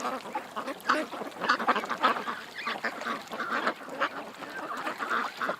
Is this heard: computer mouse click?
no